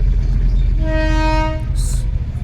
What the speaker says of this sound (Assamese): এই ট্ৰেইন এতিয়া গৈছে